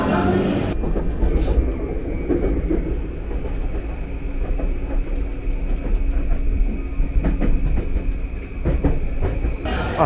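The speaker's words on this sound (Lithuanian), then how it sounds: "dabar jau sugrįžtu į Tokiją traukiniu" A passenger train heading to Tokyo rolls along with a loud, continuous rumble from inside the carriage. Wheel clatter and rail noise stay steady throughout.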